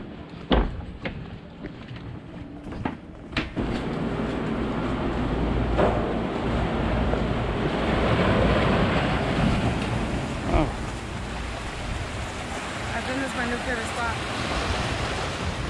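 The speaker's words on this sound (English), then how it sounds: "So here we are, part of the beach here." Ocean waves wash onto a small beach in Sint Maarten, a broad continuous surf roar that swells and eases, with a few sharp knocks at the start and wind rushing across the microphone.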